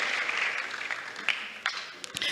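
Congregation at a Foursquare church service clapping together, a steady wash of moderate applause with a few sharper claps standing out, fairly close and without talk.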